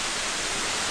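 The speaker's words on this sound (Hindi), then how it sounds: "झरने की आवाज मानो वो शांति है कि यार दिल को एकदम पानी सा निश्चल कर दे।" Waterfall at Birthi near Munsyari in the mountains, a steady dense roar of rushing water filling the whole second without breaks, close and continuous with no voices.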